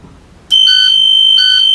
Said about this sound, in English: For the hatch, I will turn the handle until I hear the buzzer.